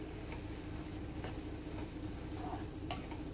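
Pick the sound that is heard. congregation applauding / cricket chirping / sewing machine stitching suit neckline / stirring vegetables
stirring vegetables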